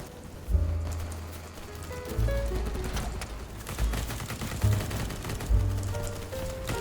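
Impact grenade blasts in the shooter BattleBit, heavy low booms thudding at irregular intervals through a clatter of rapid gunfire and debris, loud and close.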